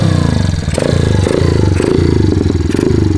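A 110 pit bike rides a dirt track, its small engine buzzing loud and close with steady harmonic drone, throttle blips and a few clattering bumps throughout.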